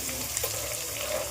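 Chopped onions frying fast in a hot tempering over a high flame for egg dum biryani, giving a steady close sizzle with faint stirring scrapes throughout.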